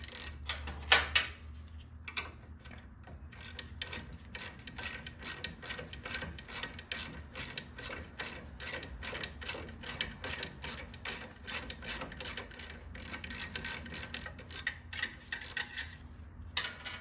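A wrench works loose the floor board bolts on a 2009 Harley-Davidson Police Special, giving rapid, steady metallic ratcheting clicks up close, with a few louder clanks at the start.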